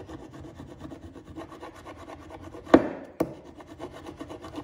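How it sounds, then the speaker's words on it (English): A burnisher rubbed hard along a scraper blade on a bench, a quiet rhythmic back-and-forth scraping with two sharp, louder knocks partway through. "Take your burnisher, hold it flat, and then drop the handle very slightly, and then rub hard on that surface."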